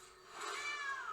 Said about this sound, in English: I love the cat sound. It always surprises me. It's so damn loud.